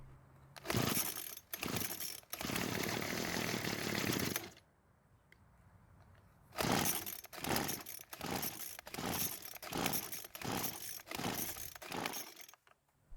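A Hyper Tough string trimmer engine, recovered from a roadside and under repair, fires up in the choke position. It roars loudly for a few seconds, stops briefly, then catches again with a rougher, sputtering run.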